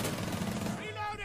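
Video-game gunfire crackles in a short burst of rapid shots, loud and close, with a voice speaking over it.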